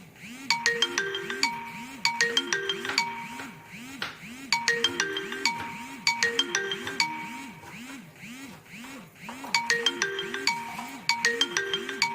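A phone ringtone plays its looping electronic melody, repeating several times, close and fairly loud.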